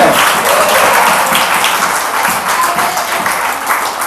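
Church congregation applauding during a sermon, a loud, dense burst of many hands clapping together that carries steadily without pause.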